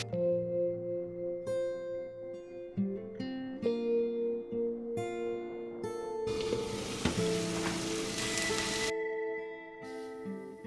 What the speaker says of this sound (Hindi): यहाँ पे मशरूम के लिए भी पैन चढ़ा दिया है, बटर ऐड किया है और इसमें डालेंगे खूब सारा गार्लिक, साथ में ही थोड़ा सा अनियन भी ऐड कर दिया है।